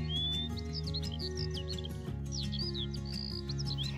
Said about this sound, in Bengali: সারাদিন তার পাখির কিচিরমিচির শব্দ শুনতে হতো